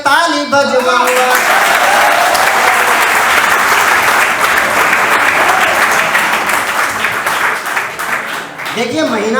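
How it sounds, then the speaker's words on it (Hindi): Loud, dense audience applause at a Hindi comedy poetry stage show fills nearly the whole stretch, steady throughout, with brief voice at the start and end. "तो एक बार पहले मैं ताली बजवाऊंगा"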